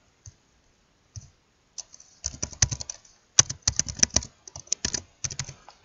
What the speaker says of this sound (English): We'll type send.